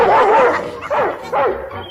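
A family dog gives three short, whiny barks in quick succession, loud and close, with a yelping edge.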